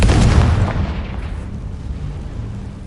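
A Confringo fire spell explodes in the video game Hogwarts Legacy, a loud deep boom with a crackling burst that rolls off and fades into a long rumbling tail, no speech.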